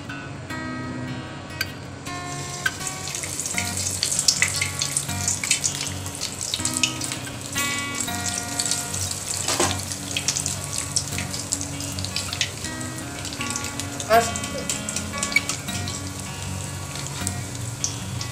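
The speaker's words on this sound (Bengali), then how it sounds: "এবার একটা কাটলেট আমি তেলের মধ্যে দেব।" A bread cutlet sizzles and crackles steadily in hot oil over a medium gas flame, a continuous frying hiss with bubbling pops that stays fairly loud throughout, no voices.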